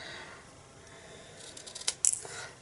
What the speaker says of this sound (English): I'm just going to cut this out freehand like this